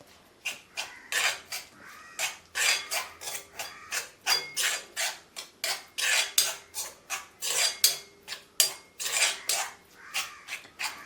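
Herbal hair oil ingredients, ground leaves among them, being mixed by hand in a metal vessel: a steady run of scraping, clinking strokes with a spoon against the pot, repeating rhythmically and close by with no talking.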